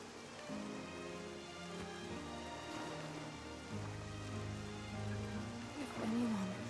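Soft, continuous rainfall patters on surfaces at low volume in Octopath Traveler II, mixed with low droning tones from the game soundtrack.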